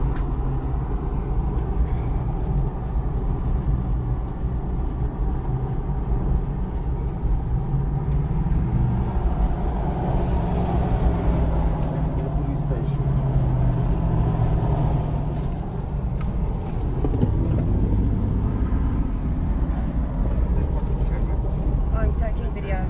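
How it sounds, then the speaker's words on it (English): A cavalcade of cars gives chase, engines rumbling and droning continuously in a loud, dense roar under voices and general commotion. "here is a video about them being chased by this cavalcade of cars"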